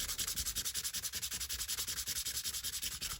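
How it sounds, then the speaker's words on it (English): Sandpaper rubbed back and forth over a vintage acrylic watch crystal from a Junghans watch, a fast, even rasping rhythm of roughly six strokes a second, close and dry, with no voices. "I use sandpaper to remove scratches after this step."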